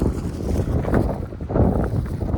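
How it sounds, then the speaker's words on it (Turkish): Strong wind buffets the microphone in loud, low, rumbling gusts that continue throughout. "Yani her yer rüzgar ya vallahi"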